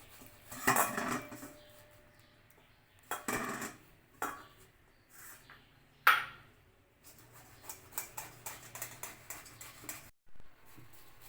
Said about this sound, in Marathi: सुरुवातीला आपण ही उकडलेली केळी आणि बटाटा किसून घेणार आहोत